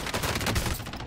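Rapid video game gunfire, a dense burst of loud overlapping shots that fills the whole brief moment.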